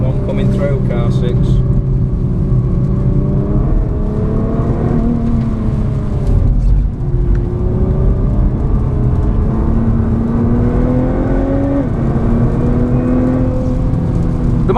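Inside a 2017 Nissan GT-R lapping Spa-Francorchamps in torrential rain, a muted engine drone rises and falls through gear changes, loud and steady beneath continuous commentary.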